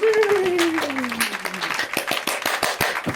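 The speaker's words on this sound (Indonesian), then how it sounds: "Kita kasih efek tepuk tangan dulu" An applause sound effect dropped into a podcast, with sharp, evenly spaced claps sounding alongside a falling tone and voices early on, then continuing as a crisp clapping run.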